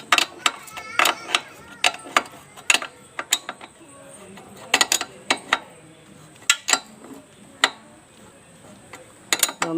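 A 19 mm spanner tightens the rear wheel nut on a Hero Glamour motorcycle, giving a series of sharp, close metallic ratcheting clicks and clanks in irregular bursts with quiet gaps between them.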